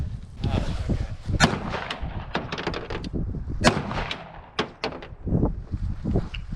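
Several sharp gunshots from a self-built firearm fired outdoors on hunting land, sounding as loud, irregular cracks spread across the stretch, with some people talking in between.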